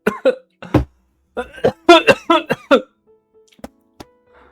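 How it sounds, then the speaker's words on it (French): A rapid fit of harsh, close coughing, around a dozen bursts in quick succession, then it trails off into near silence with a faint catch of breath. "C'est ma personnalité de tousser sans cesse"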